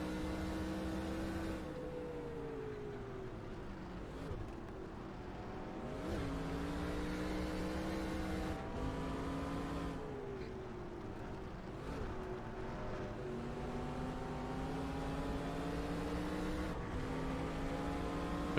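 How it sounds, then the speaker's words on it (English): Race car engine in NASCAR Racing 2003 at Watkins Glen, 1992 Bud at the Glen, roaring steadily and loudly throughout, its pitch sliding up and down with repeated shifts and throttle changes through the corners. No one speaks. "You'll hear me squealing the tires in some turns."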